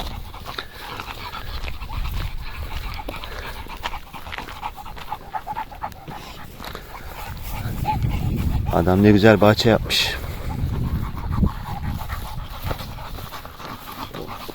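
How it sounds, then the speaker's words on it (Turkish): A large dog pants heavily outdoors on a nature walk in Germany, the breathing louder and closer for a couple of seconds midway, while a person talks over it. "Orada büyük bir köpek var. Büyük bir ihtimalle Leon Berger yani büyük köpek ırkı"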